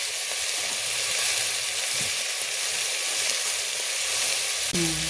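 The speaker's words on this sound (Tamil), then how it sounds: "பெரிய வெங்காயமாக வெட்டி போட்டுக்கிட்டேன், வதக்கிட்டுருக்கேன்" Onions sauté in a hot pan with a steady, close sizzle that barely changes throughout.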